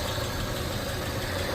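Honda Civic EF sedan engine idling steadily after ignition timing adjustment, a continuous even mid-pitched hum with a faint rhythmic knock underneath, close and alone with no talk.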